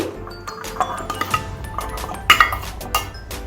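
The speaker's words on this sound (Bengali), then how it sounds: "এবার এই মিক্সিং জারের মধ্যে আমি এগুলোকে অ্যাড করে দিচ্ছি।" Soaked raisins and almonds being added into a mixing jar in a home kitchen, a series of sharp clinks and taps against the jar, irregular and close, with a brief ringing knock in the middle and no talk.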